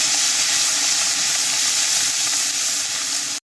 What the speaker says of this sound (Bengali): এই তেলের মধ্যে কালো জিরা ফোড়ন দেব, রসুন বাটা দিয়ে দেব, পেঁয়াজ আর আদা একসাথে বেটেছি দিয়ে দেবো